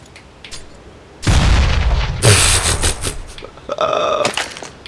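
A grenade explodes in Counter-Strike: GO, a loud sudden blast with a long rumbling tail, followed by sharp crackling impacts and further bursts close by.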